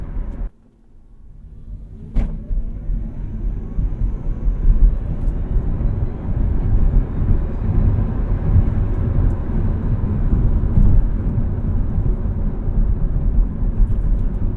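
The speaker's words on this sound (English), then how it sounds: "Nice little 0 to 60 run. So I sort of rolled into it there to try to not spin the tires." A 2021 Hyundai Kona EV electric car accelerates from 0 to 60, heard from inside as a rising rumble of road and wind noise that builds and holds loud for several seconds after a brief quiet start.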